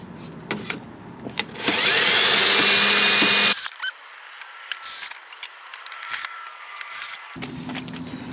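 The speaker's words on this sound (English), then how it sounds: "Let's do some drilling." A power drill bores holes for a Pontiac GTO carbon fiber side skirt, whirring loudly for about two seconds close up, then stopping, followed by clicks and handling noises.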